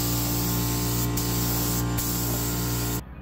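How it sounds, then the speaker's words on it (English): Continuous hiss of a spray gun blowing white paint onto a 1981 Chevy K10 pickup, loud and close over a steady compressor hum, with two brief pauses before it cuts off. "Here we are, ready to spray."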